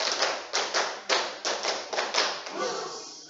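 Secondary-school students clapping together in a classroom, a patterned rhythm of crisp group claps in quick clusters, evenly spaced and fading at the end.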